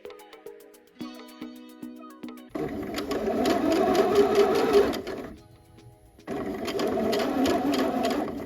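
A sewing machine stitches fabric for a pair of joggers, starting with short bursts, then running in steady, loud stretches with a brief pause between them as the work is pivoted.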